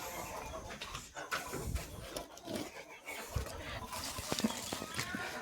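Desi hens sit in a poultry shed in Ratnagiri, soft scattered clucks and rustling heard faintly at low level, with quiet talk now and then.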